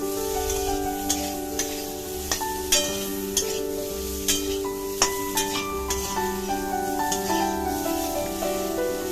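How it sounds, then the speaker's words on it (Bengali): Drumstick, potato and other vegetables fry with salt and turmeric while a spoon stirs them. A constant sizzle is broken by repeated sharp scrapes and knocks against the pan at an irregular rhythm, close and fairly loud. "এরপরে আরও 2 মিনিট একটু নাড়াচাড়া করে নেব।"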